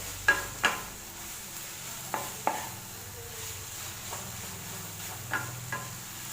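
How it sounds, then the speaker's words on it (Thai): Chili, ginger and crushed garlic stir-fried in a pan with softened vegetables, giving a soft steady sizzle broken by several sharp scrapes and knocks of the spatula, close and fairly quiet, with no talking. "พริกแล้วก็ขิงกระเทียมบดลงไป ผัดต่อแป๊บหนึ่ง"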